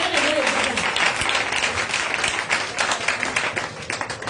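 A church congregation at a Sunday praise and worship service bursts into dense, sustained applause, a loud crowd of many hands clapping together.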